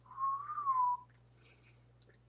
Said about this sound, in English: Would it be whistling?